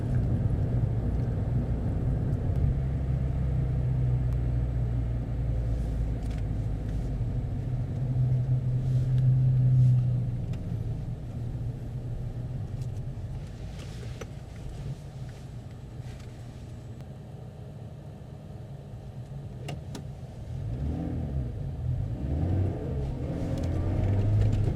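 A car engine accelerates in third gear during a mock driving test, a steady low rumble heard from inside the cabin that swells gradually and holds at moderate loudness with no talking.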